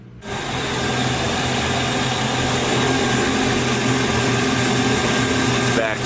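A repaired boat engine that had been overheating runs loud and steady at close range, a continuous droning roar with no pauses from start to finish.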